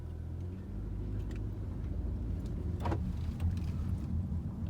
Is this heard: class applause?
no